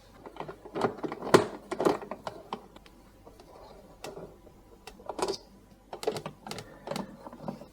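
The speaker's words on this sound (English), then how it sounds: "we're going to undo these screws and see what we've got underneath." A 4mm hex bit screwdriver undoing screws from the base of a Nespresso Magimix M190 coffee machine, with close, quiet clicks and ratcheting scrapes coming in short irregular bursts.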